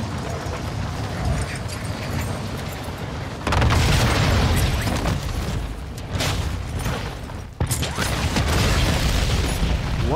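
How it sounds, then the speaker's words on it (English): Heavy booming explosions in Call of Duty: Modern Warfare II gameplay, with crackling, rumbling debris, surging louder in sudden bursts partway through, with no talking. "What is this explosion?"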